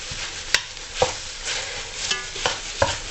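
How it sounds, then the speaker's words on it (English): Ground beef and onions cooking in a pan, stirred and scraped with a metal spatula, giving sharp intermittent clinks and scrapes over a soft steady sizzle, close and fairly quiet. "just making sure that the ground beef actually gets cooked"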